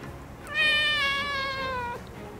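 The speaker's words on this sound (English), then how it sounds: "As a cat owner, I am always anxious when I leave my cats, Teemo and Arya, alone." A domestic cat gives a single drawn-out meow lasting over a second, close and clear against a quiet room.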